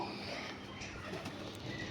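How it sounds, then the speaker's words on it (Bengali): A domestic pigeon coos softly near a home garden, a low, rolling murmur over a couple of seconds against faint background noise. "ওই দেখেন আমার কবুতর"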